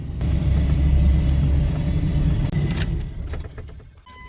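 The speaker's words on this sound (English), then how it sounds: "Now we're driving off the beaten path a little bit." A car rolls off-road along a dirt track on a rural property, with a steady low engine rumble and tire noise, followed by rattles and jostling as it bumps along.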